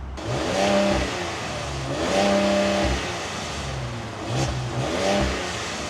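A 2025 RAM 1500 Limited's big V8 pickup engine revs three times, each throaty rise swelling then dropping back to a low rumble.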